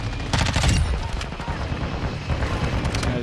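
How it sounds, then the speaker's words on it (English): Light machine gun fire in Modern Warfare 2 comes as rapid bursts of shots, loudest early on and then continuing in rougher, uneven volleys with some background game noise. "Jump shotting with an LMG."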